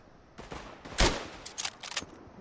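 Rifle gunfire in the WW1 game Tannenberg, with one sharp, fairly loud shot followed by a few fainter, scattered reports.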